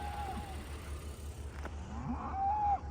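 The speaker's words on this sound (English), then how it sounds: "That's the cows." Cows mooing nearby, one long low moo at the start and another rising moo toward the end, heard over a steady low engine hum from a car interior.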